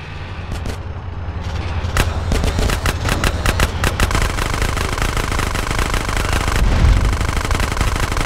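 Rapid bursts of automatic gunfire from a train-chase shootout in the game GTA San Andreas, loud repeated volleys close up over a rumbling engine bed, continuing without pause.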